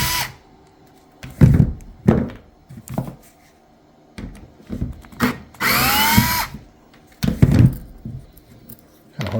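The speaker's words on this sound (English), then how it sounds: "let me unscrew the center part" A power drill unscrews the center part of shop drawers in short, separate bursts of whirring close by, one longer run rising in pitch. Quiet handling knocks fall between the bursts.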